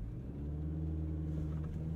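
A 2023 Toyota Corolla Cross Hybrid pulls away under acceleration, a steady low engine and road rumble with a constant drone throughout, close and moderately loud with no talk.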